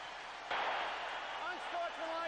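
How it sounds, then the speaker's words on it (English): Stadium crowd at the Superdome during an NFL game between the 49ers and Saints swells abruptly into a loud, sustained roar of cheering, with whistle-like tones poking through near the end. "now the crowd has turned up several notches here at the Superdome"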